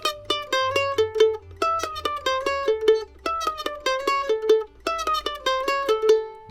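A mandolin repeats a short picked lick three times in a row, each pass a quick run of bright alternate-stroke notes ending on a ringing held note, close and clear over a faint low hum.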